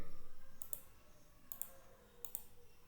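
Three pairs of sharp computer mouse clicks, evenly spaced about a second apart, close and crisp over a faint room hum while a WordPress site is set up.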